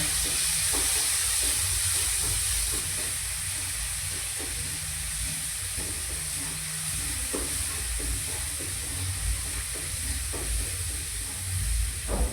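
Ginger-garlic paste sizzling in a cumin tempering, a steady close hiss of frying oil with faint stirring clicks, heard alone with no talk.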